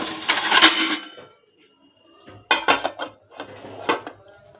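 A lid clattering onto a metal pan of fried bhajiyas in a home kitchen, with clinking pot-and-utensil knocks in two bursts separated by a brief quiet gap.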